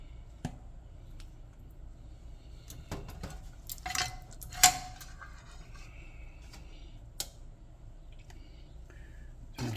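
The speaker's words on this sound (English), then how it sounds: "I'm just taking the sauce out of the bottom of the cast iron skillet" A spoon scrapes sauce from the bottom of a cast iron Dutch oven, giving sparse metallic clinks and scrapes with quiet gaps between them.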